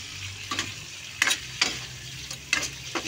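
Shrimp and udon being stirred in a pot, a utensil scraping and knocking in several separate strokes over a soft, steady sizzle, close and fairly quiet with no talking.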